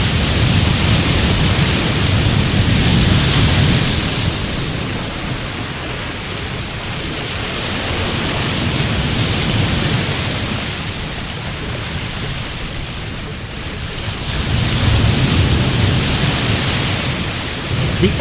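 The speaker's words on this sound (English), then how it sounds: "The ocean's fury raged off the coast of Fort Myers Beach, Florida, accompanied by howling winds" Stormy ocean surf and howling wind at Fort Myers Beach, Florida, during Hurricane Helene: a loud, dense roar of crashing waves and gusting wind that swells and eases in slow surges, with no voices.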